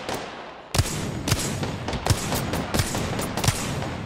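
Hemlok burst rifle gunfire in the video game Apex Legends, a series of sharp, loud shots fired in quick bursts after a brief quiet start, with no talking.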